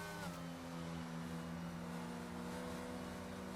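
A safety car engine in a racing video game drones steadily with a sustained, slightly rising tone over constant road noise, heard without speech.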